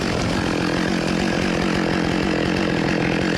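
Chainsaw bucking logs at a logging landing: a loud, continuous, raspy engine roar held at full throttle, close and unbroken throughout with no talking.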